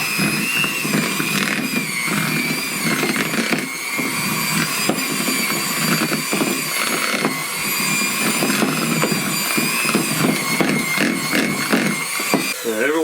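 An electric hand mixer whirs steadily and loudly, beating cream cheese frosting as icing sugar is added a little at a time for coconut chocolate brownies, a continuous motor drone filling the whole stretch.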